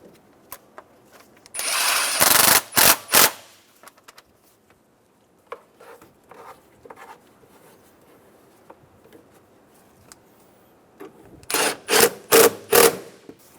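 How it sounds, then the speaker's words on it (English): Hose clamps on the air box of a 2000-2006 Toyota Tundra are tightened with a power tool: two separate clusters of short whirring bursts, near and fairly loud, with quiet handling noises between them and no talk. "Then tighten down both of the clamps."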